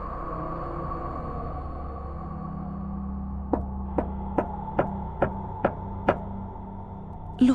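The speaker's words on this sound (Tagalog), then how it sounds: "May kumakatok." Seven sharp knocks on a wooden door late at night, evenly spaced over about three seconds, standing out clearly above a low steady hum in an otherwise quiet room.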